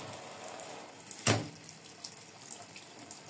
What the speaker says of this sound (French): Je suis en train de rincer.